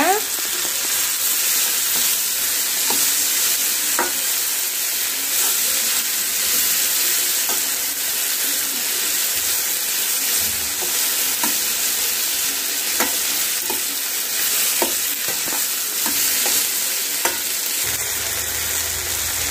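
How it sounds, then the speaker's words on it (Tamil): Continuous loud sizzling of okra frying in a pan, with occasional scraping clicks of a spoon stirring it throughout. "நல்லா கிண்டி விட்டுருங்க வெண்டைக்காவை."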